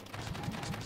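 Rapid automatic gunfire in the sandbox building game Scrap Mechanic, a quick burst of repeated shots under a dense mechanical background, less than a second long.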